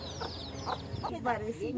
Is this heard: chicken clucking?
yes